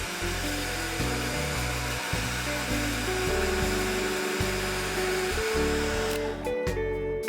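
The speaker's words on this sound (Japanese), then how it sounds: "こんな感じに溶かせたらドライヤーで乾かします" A hair dryer drying a watercolor pencil drawing blows with a loud, steady whir that shifts pitch slightly as it is moved, then cuts off near the end.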